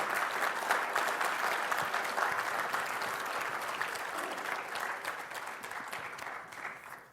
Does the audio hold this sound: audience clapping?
yes